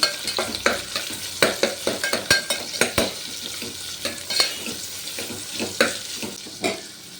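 Chopped onions sizzle in a hot pan with kasuri methi, garlic, coriander and curry leaves for aloo rice, while a spoon scrapes and stirs in quick, uneven clicks over a steady close frying hiss, with no voices.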